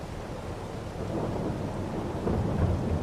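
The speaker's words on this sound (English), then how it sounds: "let's get out the blooming rain" Rain and thunder in the farming game Farming Simulator 22, a steady hiss of rainfall with deep rumbling thunder that swells louder toward the end, with no voices.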